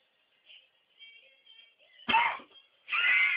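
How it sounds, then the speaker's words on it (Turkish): A person coughs after inhaling smoke: faint rasping breaths and throat sounds, then two loud harsh coughing bursts close to the mic, with a short gap between them. "İçime çekince dışarı çıkarken niye öksürtüyor bu?"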